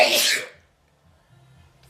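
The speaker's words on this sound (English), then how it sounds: "I sneezed" A single loud, close sneeze bursts out at once and then fades into near silence, followed by faint low background hum.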